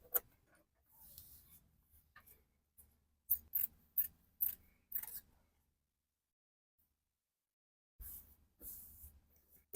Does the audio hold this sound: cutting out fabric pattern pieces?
yes